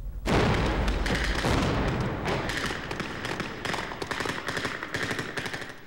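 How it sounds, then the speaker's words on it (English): A rapid string of loud blasts and gunfire-like cracks from a Secret Service training exercise, sharp bursts tumbling over each other and then thinning into scattered pops, with no voices. "These explosions give us the feel, the blast, the heat."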